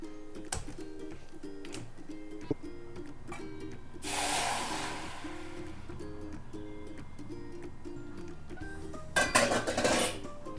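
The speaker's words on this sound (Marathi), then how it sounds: "तोपर्यंत त्याला हलवून घेऊ आपण चांगलं." Tamarind pulp is stirred in a hot pan or kadai while heating for dahi vada chutney. Soft utensil scrapes and clinks sound over a steady background hum, with a brief scraping burst midway and a louder clattering flurry near the end.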